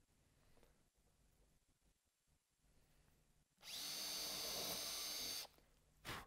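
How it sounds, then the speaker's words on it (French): An 18 V cordless drill-driver set to drilling mode at speed 2 bores a first hole, a loud steady whine lasting about two seconds after a quiet start, then a short second burst. "Je réalise mon premier trou"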